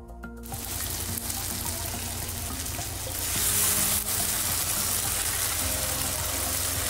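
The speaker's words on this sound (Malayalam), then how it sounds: "ഇനി നമുക്ക് ഈ ചിക്കൻ ഒന്ന് നന്നായിട്ട് വേവിച്ചെടുക്കാം" Chicken for a jaggery ghee roast cooks down in a hot pan with a steady, dense hiss close by that swells a little louder partway through, and no one speaks.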